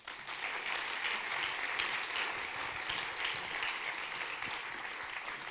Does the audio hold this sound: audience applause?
yes